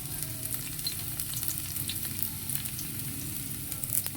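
Onion fries in hot oil with a continuous crackling sizzle that stays even and moderately loud, along with soft scraping from stirring.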